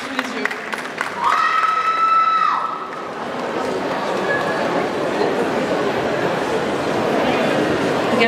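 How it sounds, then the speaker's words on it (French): An audience at the Festimanga 2025 cosplay contest bursts into sustained, dense clapping and cheering after a brief tonal whoop at the start, and the applause holds steady and fairly loud through the rest. "On l'applaudit encore, s'il vous plaît."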